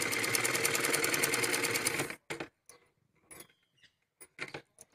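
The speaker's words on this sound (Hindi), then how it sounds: "यहाँ तक हमें ऐसे ही सिलना है।" A sewing machine stitches a full-flare Punjabi Patiala salwar, running in a fast, steady whir for about two seconds before stopping. A few sharp clicks and handling knocks follow in the quiet.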